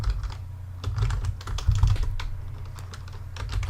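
Steady typing on a computer keyboard as a watermark name is entered, a quick, fairly close patter of key clicks over a constant low hum, with no talking.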